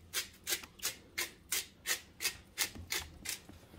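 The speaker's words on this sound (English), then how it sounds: "Remember, always rub in your meat." Hands rub seasoning into beef short ribs in a steady rhythm of about ten soft, scratchy strokes, close and fairly quiet with no talking.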